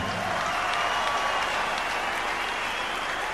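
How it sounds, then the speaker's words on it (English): Crowd applause for two boxers after a twelve-round professional fight, a dense, continuous roar of clapping and arena noise, steady and full for the whole stretch. "a round of applause for two boxers who gave everything"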